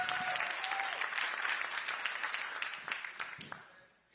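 Steady applause from a church congregation, many hands clapping together, fading slightly toward the end with a faint voice underneath.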